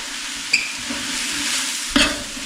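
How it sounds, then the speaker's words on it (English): Spices frying in a pan for a beetroot dish, a steady close sizzle with two sharp spoon knocks against the pan, no voices. "if you fry the spices a little bit, it actually develops the flavor more"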